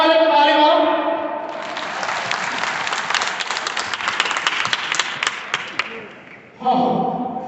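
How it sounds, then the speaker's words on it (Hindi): A seminar audience bursts into loud applause for the microphone operator, several seconds of dense clapping that fades before a voice returns. "ठीक है, फिर माइक वाले को ताली मारो।"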